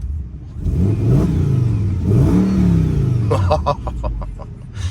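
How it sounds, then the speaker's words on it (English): An Audi S6 with a V10 engine, a salvage-auction car, revs twice in rising, falling sweeps, loud and close, followed by a few sharp clicks as the engine settles. "Let's give this thing a little rev here, see how she sounds."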